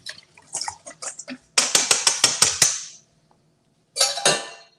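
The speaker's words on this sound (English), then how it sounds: "And this is my basting liquid. And this is what's going to be coating the outside of the UnTurkey. Just going to whisk that." Oil basting liquid for a vegan UnTurkey roast being whisked in a bowl: a fast run of sharp, close clicking strokes after a few softer taps, then a pause and a second brief burst of whisking.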